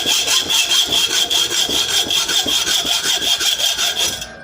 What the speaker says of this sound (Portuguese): este vou ter que o encurtar com uma serrazinha